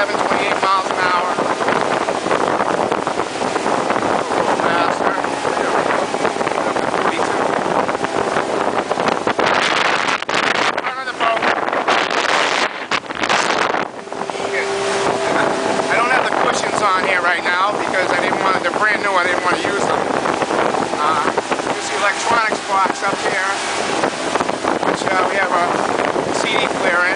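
Mako boat running underway at about 25 knots and just under 4,000 RPM, a steady loud engine drone mixed with rushing water and wind buffeting the microphone throughout, with voices talking over it.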